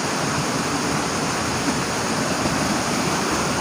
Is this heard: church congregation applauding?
no